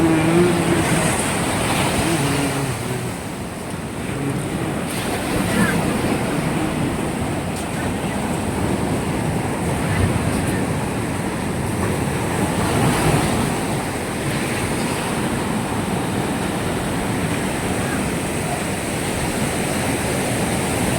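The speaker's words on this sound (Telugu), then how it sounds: "చూడండి పెద్ద పెద్ద అలలు అయితే వస్తున్నాయి" Large ocean waves crash and roll onto Anjuna Beach in Goa, making a continuous roaring surf wash that stays loud and steady, mixed with wind buffeting the microphone.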